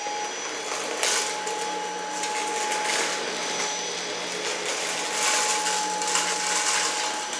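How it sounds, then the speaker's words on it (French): A Roborock H6 cordless stick vacuum cleaner running on its medium power setting, giving a steady continuous whine with a constant tonal hum, close and loud, with faint brushing variations and no talking. "je vais passer ce deuxième aspirateur robot qui est le Roborock H6, qui est un assez bon aspirateur."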